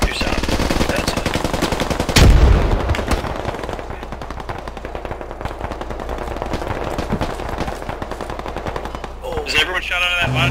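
Light machine gun fire in the tactical shooter game Squad: long, dense rapid-fire bursts that stay loud and close throughout, with a heavier blast early on and players' voices now and then under the gunfire.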